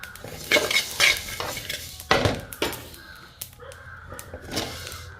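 Fennel seeds roasting in a pan, with a few sharp scraping and rattling stirs over a quiet background, and a crow cawing outdoors.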